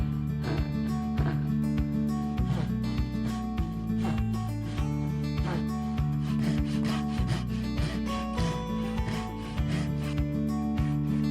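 Rhythmic rasping strokes of a hand saw cutting wood for kitchen shelves, repeated back-and-forth pulls, close and clear over a steady hum.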